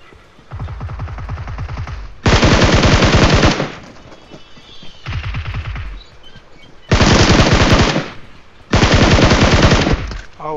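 Gunfire from a double-barrel shotgun in the video game PUBG. Loud, sharp volleys of shots come in several separate bursts with short gaps between them, and no one speaks.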